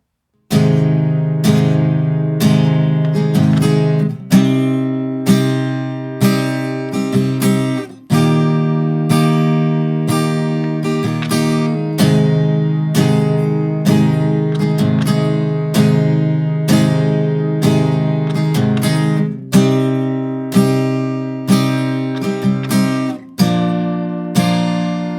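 Guitar strumming a chord progression, a steady, even pattern of repeated chords that rings close and clear for about twenty-five seconds with no voice over it.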